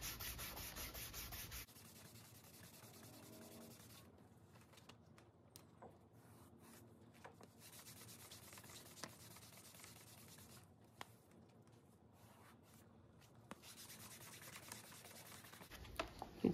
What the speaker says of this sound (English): And this is the first burnishing that I'll do on here.